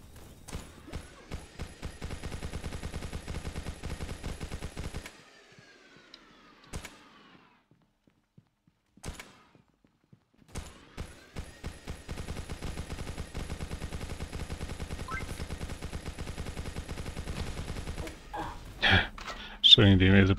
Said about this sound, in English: Shooting the invisible guy flying around.